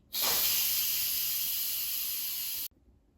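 An Instant Pot pressure cooker vents steam in a quick release, a loud continuous hiss that starts abruptly, holds steady for over two seconds, then cuts off sharply.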